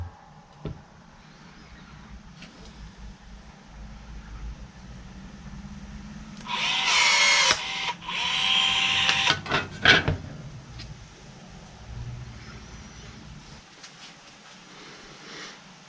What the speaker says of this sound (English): BPRT-0 M12 rivet gun